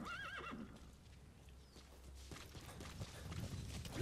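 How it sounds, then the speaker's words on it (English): A horse in Metal Gear Solid V: The Phantom Pain gives a wavering neigh, then its hooves clop steadily on the ground, close and clear. "Come on, horse."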